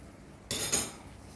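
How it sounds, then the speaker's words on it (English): Salmon pieces go into a pan of simmering tamarind curry, a single brief splash and scrape rising suddenly out of a quiet background and fading within half a second. "We can add the salmon now."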